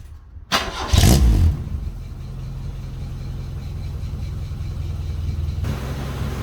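A Toyota Corolla engine cranks and catches after a short quiet moment, with a loud surge of revs, then settles into a steady, even idle close by.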